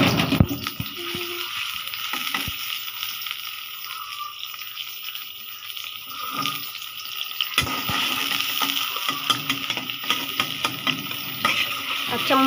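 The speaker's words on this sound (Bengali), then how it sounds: "পেঁয়াজটা বেরেস্তা করার জন্য এখন দিয়ে দিছে।" Chopped onions frying in hot oil to make crispy beresta for a chicken recipe, a steady hiss and sizzle with occasional stirring scrapes, close and continuous, swelling louder in the second half.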